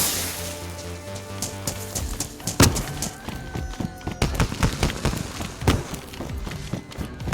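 Fireworks set off in Cherno Square in the DayZ game, a series of sharp pops and crackling bangs at irregular intervals, some louder and closer, over a steady ambient hum.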